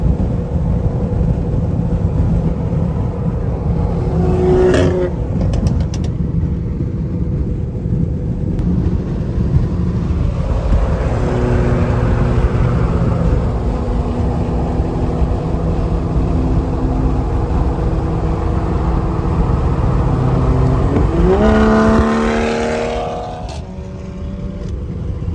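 Toyota Supra driven on the road: a continuous engine roar with wind noise throughout, rising in pitch as it revs through gears, loud and close, with no speech.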